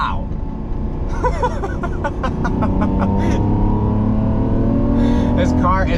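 A 2022 Lamborghini Countach, a V12 supercar, revs hard and accelerates with rising engine pitch and quick gear shifts, loud and close, under excited talk from inside the cabin.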